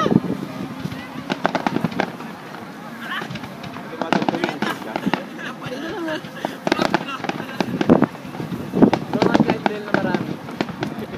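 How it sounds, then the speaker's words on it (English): Fireworks at the Tamagawa fireworks festival crackle and pop in dense, irregular bursts from a distance, while a crowd and nearby people talk throughout. "Fireworks."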